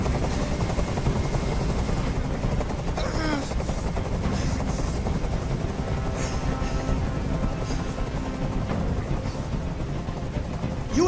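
Helicopter hovering overhead in the video game Detroit: Become Human, a steady loud rotor thrum throughout, with brief shouted voices over it.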